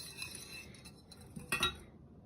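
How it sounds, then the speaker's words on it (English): Gingerbread dough ingredients are whisked in a bowl, a quick, fairly faint run of metal clinks and taps against the bowl, with a brief louder clatter near the end. "We just wanna whisk it in there."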